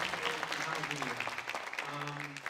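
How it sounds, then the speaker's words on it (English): An audience at a student creative writing reading claps together while a voice speaks over the applause. "A big round of applause for all of the students"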